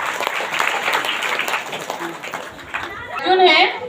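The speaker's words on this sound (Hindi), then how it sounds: "इसलिए जोरदार ताली से प्रभु धन्यवाद।" Church congregation clapping loudly in thanks during a worship service, a rough patter of many hands mixed with crowd murmur, then a voice rising over the fading clapping.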